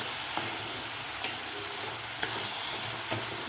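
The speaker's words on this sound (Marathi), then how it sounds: "टोमॅटो सॉफ्ट होईपर्यंत व्यवस्थित परतून घ्यायचं आहे" Chopped tomatoes and onion with a pinch of salt sauté in a pan for gawar bhaji, giving a steady, even sizzle close up with occasional soft clicks of a spoon stirring, and no talk.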